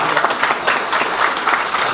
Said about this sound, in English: let's give them a very big hand of applause